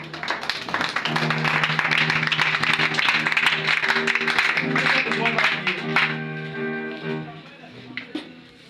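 Church congregation applauding Jesus, a loud stretch of dense clapping over sustained tones of accompanying music, fading toward the end with voices present.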